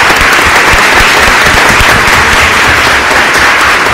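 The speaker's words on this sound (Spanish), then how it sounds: "Le damos un aplauso," Dense, loud applause from a conference audience at a forensic entomology session, steady clapping that fills the whole stretch without a break.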